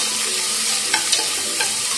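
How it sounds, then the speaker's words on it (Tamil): Onions sizzle with curry leaves in a hot pan for a Madurai-style mutton curry, a steady crackling fry with a few brief scrapes of stirring. "வெங்காயம் வதங்கட்டும்"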